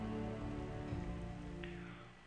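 Steady rain falls in the Project Zomboid video game, a continuous hiss of drops on surfaces with a low constant hum beneath, fading slightly near the end.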